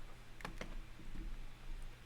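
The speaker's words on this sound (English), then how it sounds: "Sorry about my keyboard sound." Quiet keyboard typing with a few distinct key clicks, sparse and irregular, over a low background hum.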